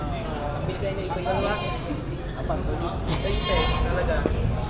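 Several goats bleat amid a noisy crowd at a livestock auction market in Padre Garcia, Batangas, with people talking over the wavering animal calls in a busy outdoor space.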